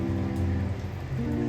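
Juice from a folded, squeezed lemon trickles down in a soft, faint patter of drips, like light rain on a surface, over a low background hum.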